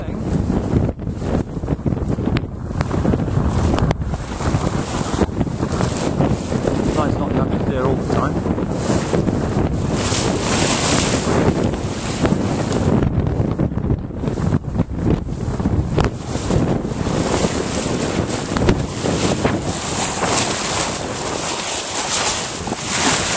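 Wind buffets the microphone and waves wash and slap against the hull as a sailboat works through a lumpy, rough sea, a loud continuous roar with irregular gusts and splashes throughout.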